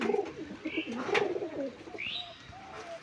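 A green female pigeon with clipped wings coos in soft, low, rolling murmurs, close by, with a couple of brief higher chirps in the background.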